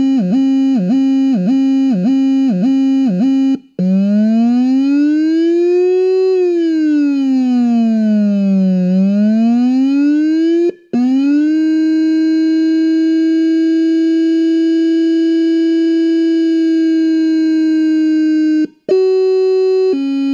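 A Feniex Hammer low-frequency emergency siren sounding close and very loud, moving from a rapid pulsing yelp into slow rising and falling wails, then a long steady tone, with brief cuts between patterns.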